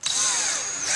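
A power drill whines steadily for about a second, driving short screws to mount D-rings on a black and mahogany picture frame, close and alone.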